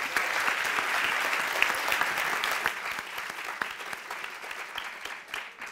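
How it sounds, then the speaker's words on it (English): A conference audience gives a big round of applause for someone speaker, with continuous dense clapping that holds evenly at a moderate, somewhat distant level and thins gradually toward the end. "Please give her a big round of applause."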